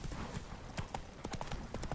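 A horse's hooves clip-clop steadily and quickly in The Witcher 3, close and clear over a dense bed of game ambience.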